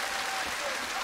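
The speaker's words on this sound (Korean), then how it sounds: "다음 분에게 박수 주시기 바랍니다" Audience applause at an outdoor televised singing contest in a Seoul riverside park, a steady dense clapping wash held at even loudness through the whole short stretch.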